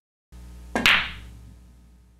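A pool cue ball striking the three ball at near stun for a cut shot, giving one sharp click after a softer tap, then a fading ring over steady low room hum.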